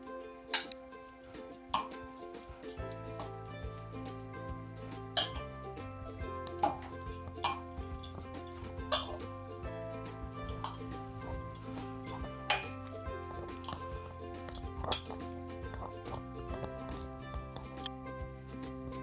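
Green papaya salad being tossed with peanut dressing in a bowl, giving soft wet stirring and repeated light clinks of utensils against the dish under steady background music, with no talk.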